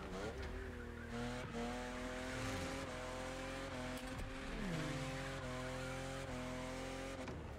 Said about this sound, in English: What a drift!